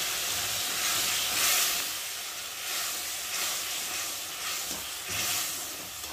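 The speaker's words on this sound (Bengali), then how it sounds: "এই যে একটু প্লেন জল দিলাম, একটু ভালো করে ফুটিয়ে নেব।" Plain water added to a hot pan of crab sets off a continuous steamy hiss and sizzle, close and fairly loud, with gentle surges as it settles into a boil.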